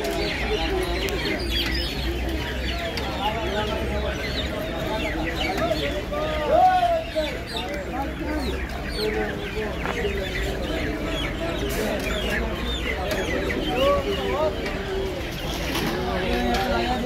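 Chickens cluck and squawk repeatedly at a poultry market where birds are being unloaded, close and busy throughout, under a steady low rumble and frequent talking voices.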